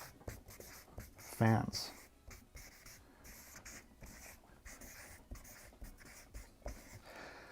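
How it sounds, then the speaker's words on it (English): A pen writes on paper in short scratchy strokes that continue steadily, close by and fairly quiet, beneath a man's speech. "I'm going to write this down."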